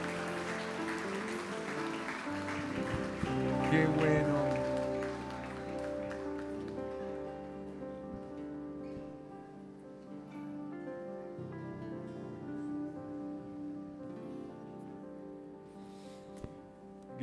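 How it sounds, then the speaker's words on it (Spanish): A church congregation applauding during a service, moderate and diffuse at first, fading under sustained musical tones that carry on, with a brief spoken remark. "Vamos a darle un aplauso al Señor."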